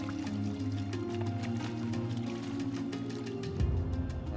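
Gravel and water slosh and swirl in a gold pan at a mining cut, a continuous liquid churning with small drips, ending in a heavier splash.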